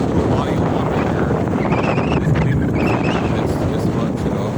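Extreme wind roars across a small body of choppy water, a loud constant blast of wind noise on the microphone with faint indistinct voices underneath.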